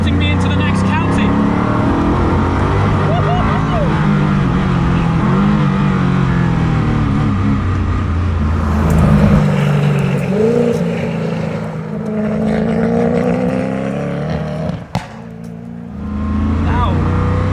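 A Koenigsegg Agera RS Naraya supercar with over 1,000 horsepower accelerates hard while its traction control grinds, and a loud, sustained engine drone rises and shifts under continuous close talk.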